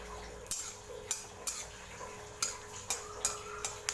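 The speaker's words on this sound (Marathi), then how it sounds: "आता रशीसाठी हे आपण पहिले शेंगादाणे भाजले" Peanuts being dry-roasted in a pan, with quiet, scattered sharp clicks and taps of a utensil against the pan at an irregular pace over a low steady background, close but faint.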